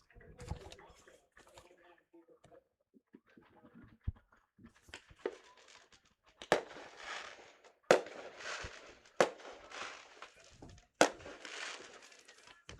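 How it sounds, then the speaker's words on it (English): Fireworks bursting out in center field during a July 4 minor-league baseball game, with sharp booms and crackling arriving in an irregular series that grows denser and louder toward the end, heard from a distance. "Multiple fireworks going off in the background."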